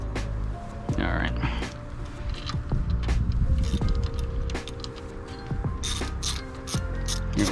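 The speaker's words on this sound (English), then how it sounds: "I'll use a towel here to hand crank it a little bit" A 2020 Dodge Charger engine is turned over by hand with a ratchet, giving repeated clicking and mechanical grinding close by, with someone talking over the work.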